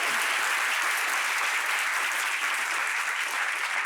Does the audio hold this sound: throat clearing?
no